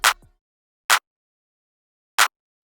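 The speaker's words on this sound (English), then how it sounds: "This is the clap pattern by itself." Three crisp clap hits from a drum machine, evenly spaced with long silent gaps between them, dry and close.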